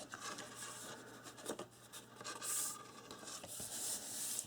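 Paper glued onto a calendar book album being burnished down by hand, producing close, soft rubbing and scraping strokes in an irregular rhythm, quiet and without talk.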